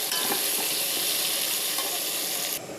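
A mango chutney mixture sizzles steadily in a frying pan, a dense continuous hiss that holds at an even level for nearly three seconds before dropping off abruptly at the end, with no voices.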